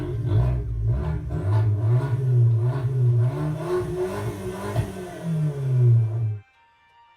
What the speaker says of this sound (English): If one is only looking for the best exhaust note in the hot hatch realm,